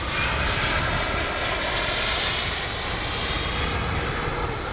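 An FMS 70mm Yak 130 radio-controlled jet in flight gives a steady, loud whooshing roar with a thin high whine that holds throughout, with no talking.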